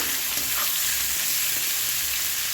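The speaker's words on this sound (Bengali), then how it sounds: "গাওয়া ঘিটা দিয়ে দিয়েছি দিয়ে ভালো করে আমি ভেজে নেব কাজুগুলো" Cashews frying in ghee crackle and sizzle steadily in a pan, a dense close bubbling hiss with faint stirring, no voices.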